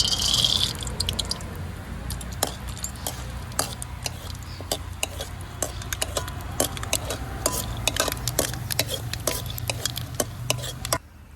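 Peanuts frying in a pan of ghee and oil: a steady low sizzle with frequent sharp clicks and scrapes of stirring throughout, fairly quiet and close.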